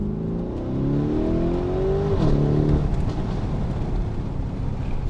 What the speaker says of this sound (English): Just over 650 horsepower in this twin turbo V8.